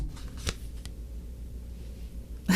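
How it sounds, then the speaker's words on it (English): A deck of playing cards is shuffled, giving a couple of quick riffling bursts close by with a short rustle at the end, and no talking. "you heard me shuffle this deck"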